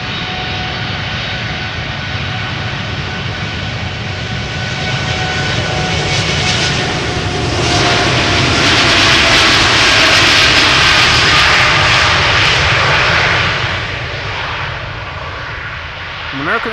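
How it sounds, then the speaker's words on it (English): Boeing Dreamliner jet airliner departing Amsterdam Schiphol, bound for Philadelphia: a loud, steady jet engine roar that swells through the middle and eases off toward the end, with faint talk underneath. "Dreamliner on its way to Philly, flight 203."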